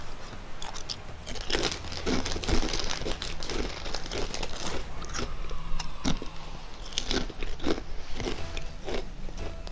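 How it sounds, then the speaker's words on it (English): Close, loud crunching and chewing of food goes on steadily, with irregular crisp bites and crinkling of a packet, nearly alone with almost no talk. "Sorry if you can hear me crunching."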